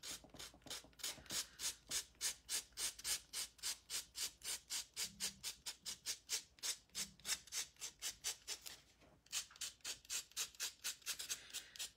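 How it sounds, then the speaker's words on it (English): Sandpaper rubs inside the straps of hand-painted shoes in quick, rhythmic back-and-forth strokes, about three per second, close and scratchy, continuing steadily with a brief pause partway through. "my sandpaper and just sand inside those straps"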